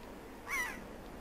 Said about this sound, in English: Seagulls away!